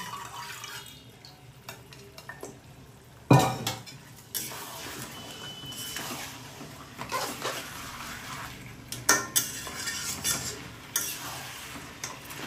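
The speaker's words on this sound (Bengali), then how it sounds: "শুধুমাত্র মাটনগুলো এই কড়াটার মধ্যে দিয়ে দিচ্ছি" Pressure-cooked mutton pieces, strained of their water, dropped into a metal kadai with clattering knocks and a sharp clank near the start, then scattered scraping and tapping over a faint hiss.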